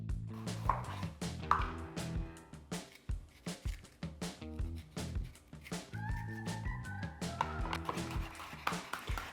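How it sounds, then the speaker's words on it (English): A knife chops red peppers for a salad on a cutting board, giving quick, quiet, fairly regular taps close by, with soft tonal music playing underneath. "chopping up some vegetables, putting in a salad"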